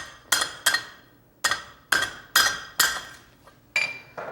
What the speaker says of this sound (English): I might just tap that with the hammer